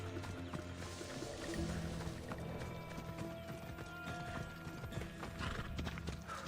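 Horse hooves clip-clop at a steady walking pace in Assassin's Creed Odyssey, close and continuous, with a brief whinny and faint game ambience behind them.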